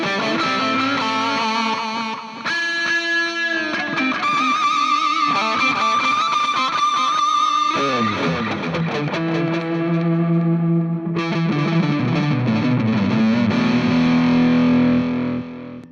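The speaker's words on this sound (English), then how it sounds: "give it some distortion." Harley Benton SC Custom electric guitar with humbuckers, played through heavy distortion: loud sustained chords and riffs with a saturated, gritty tone, a brief break midway, then ringing held notes, no voices.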